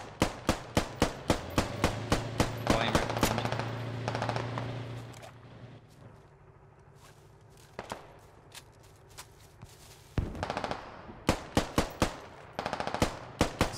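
Bursts of machine gun fire with tracer rounds in the military shooter Squad, loud rapid volleys that pause mid-clip and then resume in sharp repeated strings of shots.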